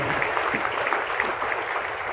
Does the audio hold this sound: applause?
yes